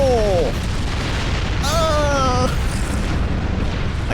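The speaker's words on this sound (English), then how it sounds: "I got caught in the explosion." A heavy explosion in the space game Star Trek Online, a loud sustained rumbling boom filling the whole clip under game sound effects and tonal alarms.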